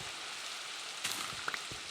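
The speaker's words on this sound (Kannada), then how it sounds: "ಒಳ್ಳೆ ಟೈಮಲ್ಲಿ ಮಳೆ ಬೇರೆ ಬರ್ತಾ ಇದೆ." Steady rain falling in the Minecraft video game, an even hiss with a few brief droplet-like crackles, fairly faint and heard alone without talk.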